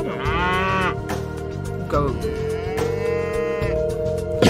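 Cattle lowing in the Age of Mythology strategy game, two long loud moos in close succession over a steady droning game soundtrack, with one short spoken word.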